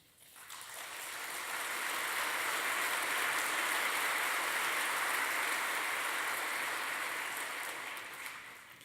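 A large audience at a climate change lecture breaks into sustained applause that swells within a second or two, holds as a full, even roar of many hands, then tapers off near the end.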